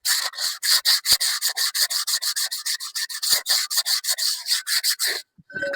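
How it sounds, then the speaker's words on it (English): Rubbing the glazed surface of a rear brake drum on a 1993 Triton truck with an abrasive: a long run of quick, rhythmic scrubbing strokes, close and steady, stopping abruptly near the end. "what I always do is to rub the glaze off the brake drum"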